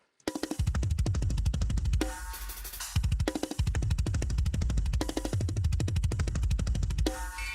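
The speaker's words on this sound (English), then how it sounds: "Let's hear our drums now." Isolated drum kit track from a metal song, fast relentless double-kick bursts and cymbal crashes in tight rapid rhythm, loud and alone without vocals.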